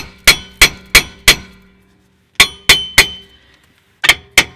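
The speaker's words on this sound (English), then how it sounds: "So I'm gonna give it a couple taps." A hammer striking a rusted brake drum to free it, delivering sharp ringing metallic clangs in bursts of four, three and two blows, each decaying quickly, loud and close with brief silences between groups.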